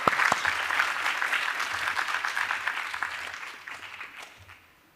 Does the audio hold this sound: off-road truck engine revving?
no